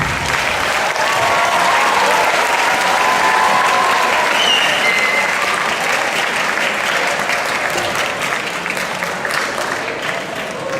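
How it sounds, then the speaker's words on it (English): Sustained applause from a secondary school audience at a World Water Day presentation, honoring the Water for Life Club; dense, steady clapping fills the whole stretch without a break. "a round of applause for our Water for Life Club at DIA"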